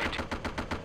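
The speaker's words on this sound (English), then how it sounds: "Fire. Machine gun." Machine gun fire in Arma: Cold War Assault, a rapid burst of about eight evenly spaced loud shots in under a second, close and alone without voices.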